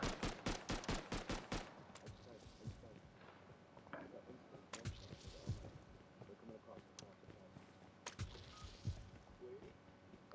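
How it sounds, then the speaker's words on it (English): Gunfire in Rust on console: a fast, loud burst of close shots, then scattered single cracks and distant shooting, with people talking over it. "I'm getting shot at"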